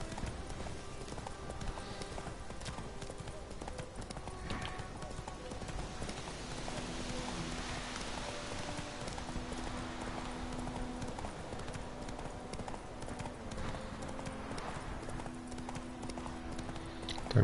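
Roach, the horse in The Witcher 3, gallops with steady, rapid clip-clopping hooves over a continuous game soundscape, at a moderate level throughout.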